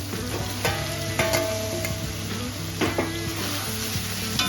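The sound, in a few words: stirring fried potatoes in spiced masala in a pan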